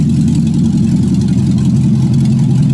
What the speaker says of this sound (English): So this is the car running.